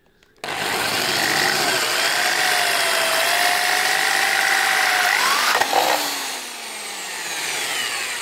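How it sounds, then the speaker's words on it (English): A power drill bores through a plastic soap dispenser container, starting abruptly with a steady whirring grind that shifts pitch as the bit cuts through, then eases to a lower spin near the end; no talk over it. "and drill away."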